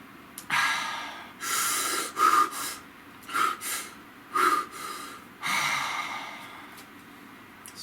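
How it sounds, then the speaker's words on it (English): Several slow, deep breaths drawn in and let out near the microphone during a calm tarot-reading pause, each a soft airy rush separated by brief quiet gaps, with no talking. "Nice deep breath."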